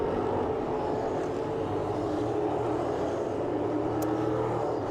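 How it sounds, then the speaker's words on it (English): NASCAR Euro Series race cars roll around the track in Italy in wet, rainy conditions, a faint, distant continuous engine drone with no distinct passes. "now the cars are moving"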